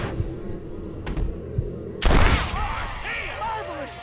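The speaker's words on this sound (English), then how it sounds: "Marvelous shot, dear boy." A single loud gunshot in Red Dead Redemption, a sharp close blast that rings out and decays into a lingering echo, following quieter ambient game sounds.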